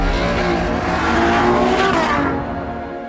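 A Ferrari GTC4 Lusso drives past, its engine roaring loudly and steadily with a rising and falling tone as it accelerates. The sound fades slightly near the end, with no talk.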